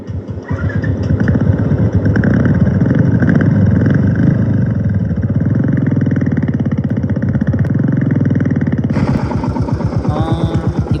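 Two motorcycles, one black and one silver, idle and rev nearby before an early-morning ride. A loud, steady engine rumble carries on throughout, and a sharper revving pulse comes in toward the end.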